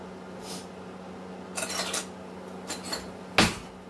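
Lemon juice being mixed into coleslaw in a bowl, heard as a few faint, scattered clinks and scrapes of a utensil against the bowl in a quiet room.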